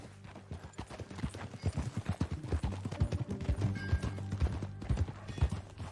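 Horse hooves clip-clop steadily at a riding pace in Red Dead Redemption 2, with an occasional whinny and faint game music beneath the close, rhythmic steps.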